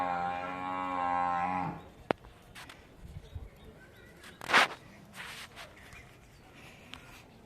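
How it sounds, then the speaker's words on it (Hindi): A water buffalo lows with one long, drawn-out call near a hill outside, followed by quieter outdoor sounds with a sharp knock and brief rustles. "देखो भैंस को, शायद भैंस को प्यास लगी है।"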